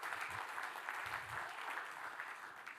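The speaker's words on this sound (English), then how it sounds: "Round of applause for Anders." An audience at a radio conference session applauding, steady clapping that carries on evenly, fairly quiet and a little distant, with a brief voice underneath.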